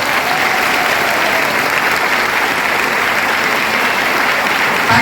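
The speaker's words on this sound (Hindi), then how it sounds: "जो जितनी जोर से ताली बजाएगा और जो अंत तक ताली बजाएगा वो सबसे जल्दी स्टेज पे आएगा।" Dense audience applause at a business leadership seminar in Delhi fills the hall, loud and steady throughout with no pauses.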